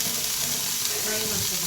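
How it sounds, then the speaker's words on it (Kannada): Food fries in a little oil with a dense, steady sizzle heard close up and unbroken, with no talk over it. "ಫ್ರೈ ಮಾಡ್ಕೋಬೇಕು"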